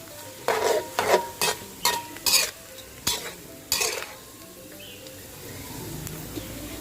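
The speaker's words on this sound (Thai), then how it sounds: "เวลาทอดเนี่ย มันจะเป็นฟองแบบขาวๆด้านบนเลยค่ะ" Small fish deep-frying in a pan of oil, with a series of sharp bursts of crackle and stirring clatter in the first few seconds, then a quieter steady sizzle.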